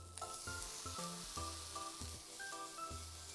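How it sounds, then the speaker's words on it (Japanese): Bacon and tomato sizzle steadily in a frying pan, a continuous close frying hiss broken by a few soft utensil knocks and scrapes, with no voices. "ベーコンが両面焼けたらトマトを入れます。"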